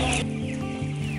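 Hens on a school poultry farm cluck in a brief, steady chorus, many birds overlapping at close range with no voices.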